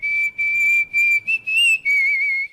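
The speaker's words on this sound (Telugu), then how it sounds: "ఏ విజిల్ అంత బాగుందా?" A person whistles a clear, high tune in a Telugu comedy film scene, a series of sustained notes broken by short pauses, close and alone.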